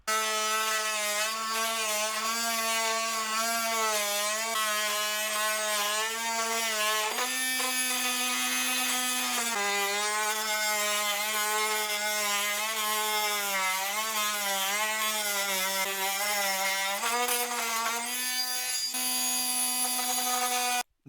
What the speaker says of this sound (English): this cordless oscillating cutting tool is not the fastest, but it's better than working manually, and it does a nice job